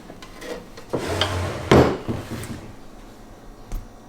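Drawers of a thrifted wooden cabinet sliding open and shut, a run of close wooden rubbing and scraping with a sharper knock in the middle and a lighter tap near the end, no talking.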